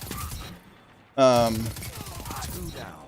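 Auto rifle fire in the Destiny 2 video game, a loud burst of rapid shots that starts abruptly partway through and dies away into quieter game sounds, with a voice talking before and after.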